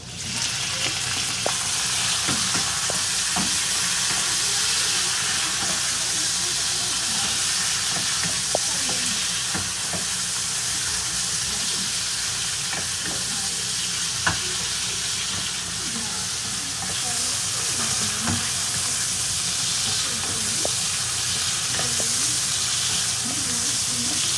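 Meat fries in a pan with a loud, continuous sizzle, broken by occasional scrapes and knocks as it is stirred, heard close and steady throughout.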